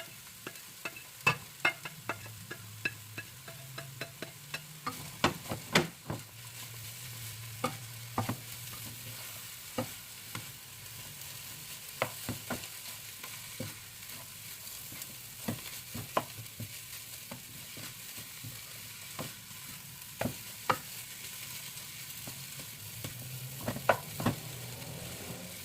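Radish and carrots for spring rolls stir-fry in a pan with a soft, quiet sizzle, punctuated by frequent sharp clicks of a utensil scraping and tapping as the vegetables are tossed.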